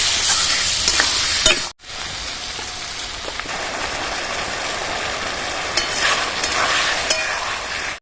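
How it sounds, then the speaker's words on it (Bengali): Cabbage sautés in a pan with crushed tomato and peas, producing a continuous sizzle and crackle with scraping stirs and a brief pause partway through, and no talking. "গুঁড়ো করা টমেটো দিয়ে দেবো মটরশুঁটি দিয়ে দেবো ভালোভাবে কষিয়ে নেবো"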